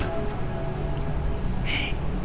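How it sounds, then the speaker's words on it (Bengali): Steady drizzling rain falling across a small town, a soft even hiss of drops with a brief brighter spatter near the end, with no talk. "আজ সকাল থেকে বেশ মায়াবী বৃষ্টি শুরু হয়েছে গোটা মফস্বল জুড়ে ঝিরঝির করে একই ছন্দে"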